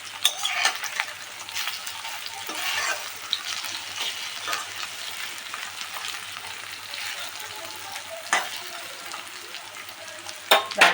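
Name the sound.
fritters of raw banana and potato frying in oil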